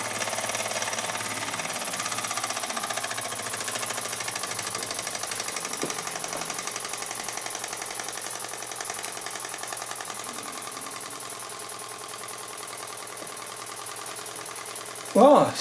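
A Burnac Vulcan model steam engine runs slowly, giving a faint, steady, rapid mechanical chuffing and ticking that continues evenly for the whole stretch, with a brief louder knock at the very end.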